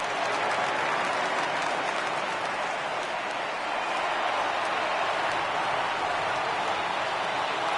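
Baseball stadium crowd in the MLB 18 video game cheering on a full 3-2 count, a dense, steady roar with scattered clapping that holds at a loud, even level throughout.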